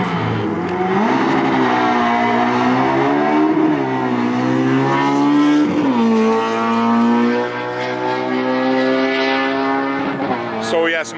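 A Ford Fusion Sport with its stock OEM muffler accelerates hard on a quarter-mile run, its engine note loud and close, climbing steadily in pitch with brief dips at gear shifts every couple of seconds.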